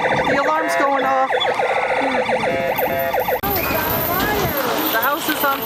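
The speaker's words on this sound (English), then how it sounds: "The alarm's going off." A wailing emergency-style siren sounds loud and steady from a fire truck amusement ride at a Dundee, Illinois holiday-themed park, rising and falling continuously with voices mixed in.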